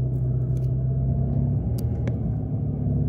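A 2024 Mitsubishi Mirage engine pulls up an extremely steep hill in second gear, giving a steady, loud, close low drone with no speech over it.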